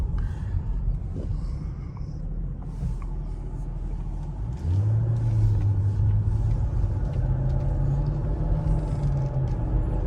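A 2016 Mercedes-Benz SL500 with about 60,000 miles and new coilovers drives along with a steady low cabin rumble, and midway the engine note rises and holds as the car accelerates, loud and close with no talking.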